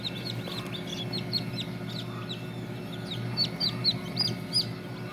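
Tiger breed chickens cluck and chirp repeatedly at a farm in Jamalpur, Bangladesh, their calls rising over a steady low hum in the background.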